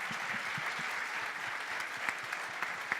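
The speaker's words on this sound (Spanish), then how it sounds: "Yo les pido, por favor, pues un aplauso para estos panelistas." Audience applause for a panel of speakers at a tourism convention, a steady dense clapping wash from a seated crowd with a few sharper individual claps standing out, no talk over it.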